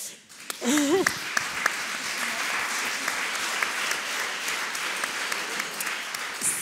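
A roundtable audience at a French sport and leadership conference breaks into steady applause, a dense sustained clapping that swells quickly and holds, with a brief voice at the start.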